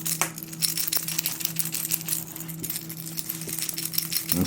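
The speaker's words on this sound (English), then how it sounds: "The rattle, I think this rattle is a little bit louder." The internal rattle of a Choppo 90 topwater fishing lure is shaken by hand, giving a dense, continuous clicking and chattering of loose beads, close up, with a faint steady hum in the background.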